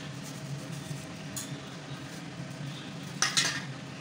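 A batter of rava soaked in milk with jaggery, cardamom and grated coconut being mixed for paniyaram, soft stirring with a brief clink of a spoon against the vessel near the end.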